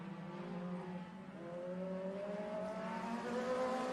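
Sport compact race cars accelerate on a single-file restart, engines rising in pitch together as they rev up and pull away, loud and sustained with whining harmonics climbing over several seconds.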